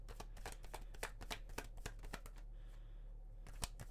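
Tarot cards are shuffled by hand in a quick, crisp riffle, a run of close, dry flicks and snaps with short pauses between bursts, heard alone and up close in a quiet room.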